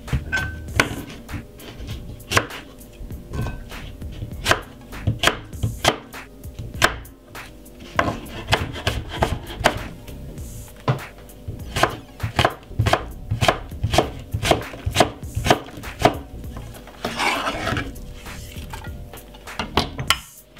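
A knife chops apple on a cutting board, with dozens of crisp, closely spaced knocks in an uneven rhythm, loud and near, with no talking.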